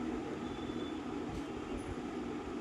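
A metro train passes below a street in Dadar as a faint, steady distant rumble under a wash of city noise, with no voices.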